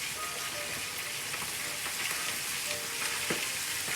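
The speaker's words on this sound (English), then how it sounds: "See how that's frying up?" Continuous loud sizzling and crackling of chicken frying in hot oil, close and steady, with no voices.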